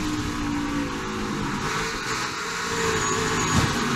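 Onboard engine roar from a brand new Toyota Tundra race truck in a NASCAR Camping World Truck Series race at Pocono Raceway, a steady loud drone with a brief surge near the end.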